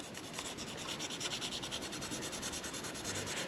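Layered clear coat is worked off car paintwork with a continuous close rubbing, rasping sound, even and moderately quiet, with a faint pulsing rhythm of strokes.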